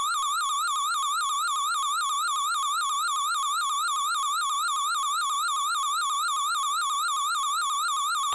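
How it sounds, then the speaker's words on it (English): Wily's capsule from the video game Mega Man 5 gives off a steady, warbling electronic tone, a bright chiptune siren-like wobble that repeats evenly and continuously, with no voices. "Wily's little capsule sounds different from all the other ones actually in this game"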